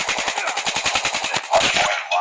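Rapid automatic assault rifle fire in the Call of Duty Mobile video game, a fast even rattle of a dozen-plus shots, then a brief pause and a couple of short follow-up bursts, close and sharp.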